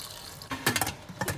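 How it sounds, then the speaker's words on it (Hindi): Half a cup of water is poured into a frying pan of chicken and dal mash fry, a couple of short, close splashing bursts with brief pauses between them, with no speech. "आधा कप पानी इसमें ऐड करेंगे"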